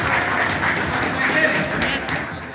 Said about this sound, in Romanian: Haideți un rând de aplauze și din partea publicului.